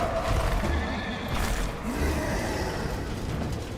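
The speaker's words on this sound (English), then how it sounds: "That's my horse." A horse neighs in Darksiders: Warmastered Edition, a whinny rising out of dense game music and rumbling effects, moderately loud but partly masked by the busy mix.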